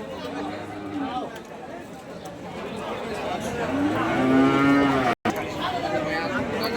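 Cattle mooing at a livestock market where bulls are sold, with one long, loud low moo rising near the middle over a steady backdrop of crowd chatter and people talking.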